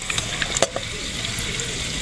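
Food sautéing in a pan with a steady close sizzle, broken by a few light clinks and scrapes of stirring near the start.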